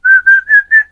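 A person whistles four short, clear, close notes in a quick steady rhythm, each held briefly with small gaps between.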